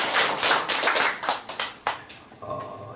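Scattered handclaps from a church congregation at a New Year thanksgiving worship service, applauding a guest preacher. The clapping is close and uneven, thinning toward the end, with a faint tone entering near the close.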